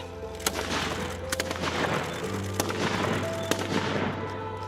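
Feudal-era Japanese matchlock guns fire in a gunnery demonstration at Matsumoto Castle, with scattered sharp reports crackling over a dense, continuous roar of outdoor noise. The shots sound fairly distant and irregularly spaced.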